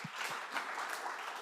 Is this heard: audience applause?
yes